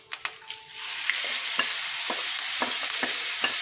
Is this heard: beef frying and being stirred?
yes